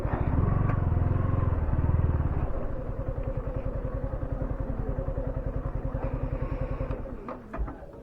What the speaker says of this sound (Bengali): এখানে বাইকটা লাগাই।